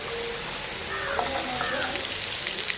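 Onions and green chillies hiss and sizzle steadily in hot oil with garlic, a close, continuous bright frying sound with faint crackles and no talk.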